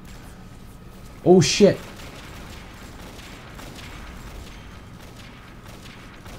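A short burst of rapid gunfire from the shooter video game Avatar Star rings out once, loud and clipped, while a player talks over the game audio before and after it.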